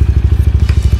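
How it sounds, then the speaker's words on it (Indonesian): A vehicle engine runs up close with a fast, even chugging pulse, loud and steady throughout. "suara mesin kita di Fatu Mutu"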